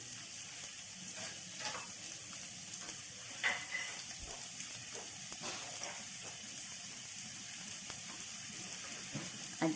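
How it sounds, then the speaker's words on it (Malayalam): Chopped onion sizzles in coconut oil in a pan, a steady soft frying hiss with occasional stirring clatter, close and fairly quiet. "ഇതൊന്ന് ആ വെളിച്ചെണ്ണയിൽ തന്നെ ഫ്രൈ ചെയ്താൽ മതി, ആ എണ്ണയിൽ"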